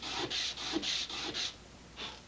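Small parts for an Estes Vanguard Eagle model rocket are deburred with quick, close rasping strokes, about seven short scrapes in a rough rhythm with a pause before the last one.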